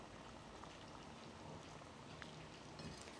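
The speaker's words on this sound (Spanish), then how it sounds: "Ya está hirviendo el agua." Water boiling in a pot for sour orange leaf tea, a steady low bubbling hiss with faint scattered pops, heard quietly and alone throughout.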